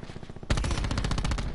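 Rapid bursts of video game gunfire from an online shooter match: a few quieter shots, then a sudden loud, sustained barrage of fast, close shots.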